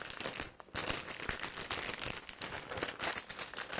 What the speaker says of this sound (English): let's unwrap it together and see what condition it's in